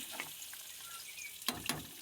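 Fat renders in a kadai with a quiet, steady sizzle and a couple of brief louder stirring or spattering bursts near the end.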